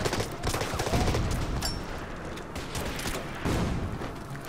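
Gunfire from an attack in the wargame Order of Battle, a dense, continuous crackle of rifle and machine-gun fire with booming thuds underneath, loud and sustained throughout.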